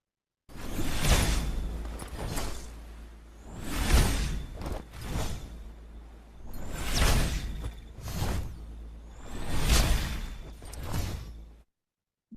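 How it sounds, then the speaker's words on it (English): A produced lightning bolt sound effect: four loud, sweeping crackling bursts with rumbling low end, each swelling and fading in turn, isolated with no voices. "for the first clip that I played you, the lightning bolt"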